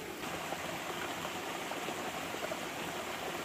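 A river runs with force, a dense, even rushing hiss heard up close and unbroken, with no voices over it.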